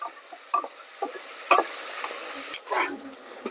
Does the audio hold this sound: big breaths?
no